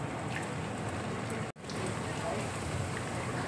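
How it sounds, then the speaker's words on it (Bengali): Rice chops fry in hot oil, producing a dense, rain-like crackle and sizzle that runs steadily, broken by one brief dropout midway. "এবার দেখো এই চপগুলো আমি তেলের মধ্যে ছেড়ে দিচ্ছি"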